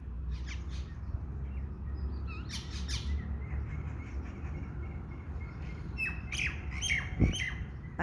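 Several birds squawk and call in harsh bursts, scattered at first then clustering in a busier flurry toward the end, over a steady low outdoor rumble.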